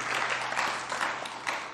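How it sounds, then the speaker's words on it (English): A church congregation gives a short burst of clapping in praise on Resurrection Sunday, soft and somewhat distant, with a faint steady hum underneath. "Let's give a clap offering for the Lord."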